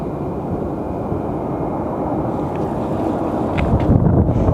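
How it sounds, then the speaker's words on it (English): Southwest Airlines flight 4704 from San Jose arriving at Phoenix Sky Harbor Airport, heard as a steady, broad jet rumble under wind noise that slowly grows louder toward the end, with no talk. "up next we have Southwest 4704 coming in from San Jose"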